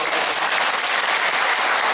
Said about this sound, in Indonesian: Tepuk tangan untuk Pak Arif Daud.